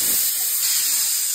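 Pressure cooker holding chicken hakka noodles letting out its steam in a continuous loud, close hiss that holds steady throughout.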